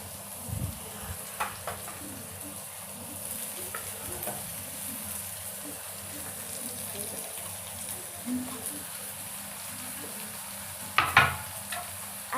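Garlic, chili and curry leaves sizzle steadily in a hot pan while being stirred, a continuous close frying hiss broken by a few soft clinks of the spoon against the pan.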